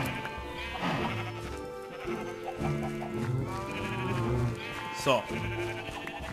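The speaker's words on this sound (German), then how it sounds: "Viel zu viele Schafe, viel zu viele Schafe." Sheep bleating in the video game Minecraft, several wavering bleats layered together over steady game background sound, with someone talking over them throughout.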